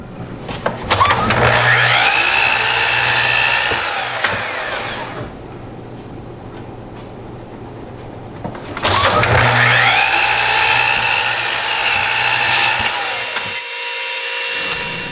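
A power saw cuts through wood for a planter build in two loud, close bursts of whining, rasping cutting, separated by a quieter pause of the motor idling down, then trailing off at the end.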